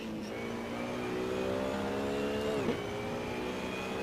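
A race car engine in the driving game Assetto Corsa drones steadily at high revs, then drops sharply in pitch as it lifts or downshifts near the end, moderately quiet and steady with no voices.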